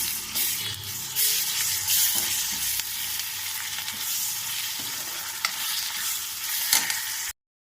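Ginger garlic paste stirred and frying in a pan for a bottle gourd and chana dal curry, a steady close sizzle with scraping stir strokes throughout, no talking.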